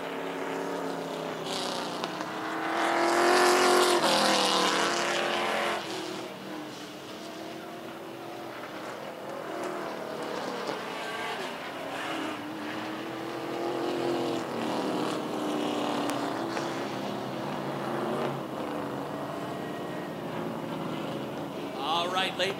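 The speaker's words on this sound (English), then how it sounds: "Late models ready to go." Late model race cars roaring at Wiscasset Speedway, a loud engine drone swelling as cars pass, under steady announcer talk throughout.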